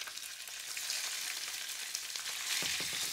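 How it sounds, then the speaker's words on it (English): Chunks of boneless, skinless turkey breast brown in a little oil in a skillet, giving a dense, steady sizzle up close, with a brief clatter of stirring near the end and no talking. "I'm going to start off with browning my turkey."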